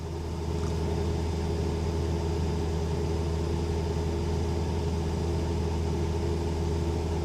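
A 2003 Nissan Frontier engine, under diagnosis for a catalyst efficiency fault, runs steadily at around 2,500 RPM, giving a constant, even drone with low rumble and no change in pitch or level throughout.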